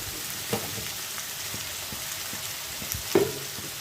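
Steady sizzle of vegetables frying in a pan with turmeric and chilli, with a couple of brief clatters of stirring, close and moderately loud with no talking.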